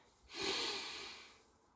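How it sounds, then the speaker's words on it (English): One deep, slow breath drawn in through the nose during a mindfulness meditation, lasting about a second, soft and airy, close and alone in a quiet room. "If we perhaps take that alerting breath,"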